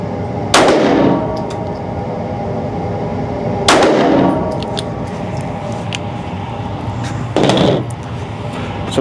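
Three sharp gunshots from a Taurus GX2 handgun fired outdoors, spaced a few seconds apart, each a loud crack with a brief ringing tail.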